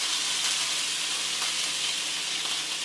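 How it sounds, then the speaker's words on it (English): Sausages sizzle in a frying pan, a steady bright crackling hiss that holds at an even level throughout with no voices. "our sausages are sizzling nicely, so I'm just gonna flip them over with the spatula"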